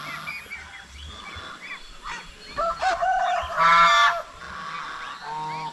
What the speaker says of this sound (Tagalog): Yung mga gansa natin oh.